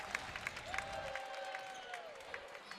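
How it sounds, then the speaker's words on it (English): A basketball arena crowd at the Breslin Center claps and cheers at a moderate distance during a Big Ten women's game, with a commentator talking over the noise. "The bench getting the Breslin Center crowd to their feet."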